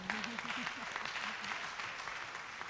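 A summit audience applauds in a continuous, moderately loud patter of many hands, with a speaker's voice audible underneath the clapping.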